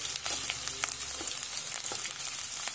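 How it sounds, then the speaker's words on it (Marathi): A paste of onion, coconut, garlic and ginger frying in hot oil for shev bhaji, a steady soft sizzle with occasional small pops and faint stirring scrapes. "आणि मग हा कांदा, खोबरं, लसूण, आलं यांची ही पेस्ट ती सुद्धा आता आपल्याला तेलात परतून घ्यायचं आहे।"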